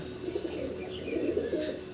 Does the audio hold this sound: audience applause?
no